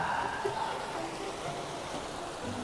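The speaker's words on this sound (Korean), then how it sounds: "아, 물소리 좋다." Steady rushing water flows beside a quiet lake, a continuous near wash of noise with no voices.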